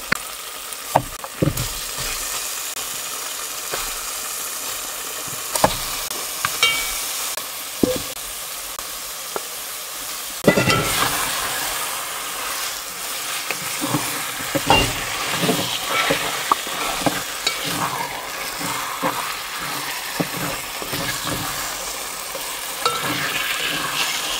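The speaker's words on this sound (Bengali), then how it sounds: "মশলার উপরে এই যে তেল উঠে আসছে, মশলা ভাজা হয়ে গেছে।" Spice masala for spicy beef bhuna frying in oil as it is stirred, a steady close sizzle broken by sharp scraping strokes of the spoon, growing busier partway through.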